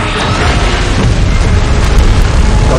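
A heavy in-game explosion from a beam blast in PUBG Mobile, during a Mechagodzilla and Godzilla battle, rumbling loud and continuous with deep booming low end that carries through the whole moment.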